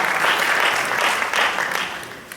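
Loud, sustained applause from an audience at a Bhagavat Saptah religious discourse in Houston, welcoming the guru; steady clapping throughout that eases slightly toward the end.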